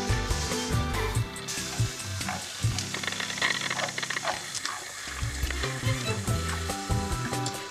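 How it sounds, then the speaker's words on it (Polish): Omelette batter sizzles in a frying pan with a steady, moderately loud hiss, broken by a few brief clatters, over a low tonal hum and with no voices. "więc możemy wlewać je na patelnię."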